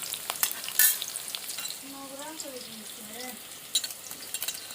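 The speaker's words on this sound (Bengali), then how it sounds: "এই দেখুন, পেঁয়াজটা ভাজা হয়ে গেছে" Onions frying and being stirred in a hot pan make a steady close sizzle with scraping stirs and a few sharp clinks. A brief voice-like tone briefly rises over the sizzle.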